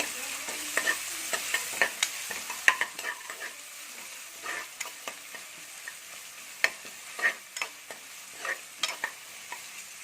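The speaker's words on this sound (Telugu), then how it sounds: "ఒకసారి అల్లం వెల్లుల్లి పేస్ట్ పచ్చివాసన పోయే వరకు ఫ్రై చేయండి" Ginger garlic paste frying in a pan, with a soft continuous sizzle beneath frequent scraping and tapping strokes of a spoon stirring it, irregular and close.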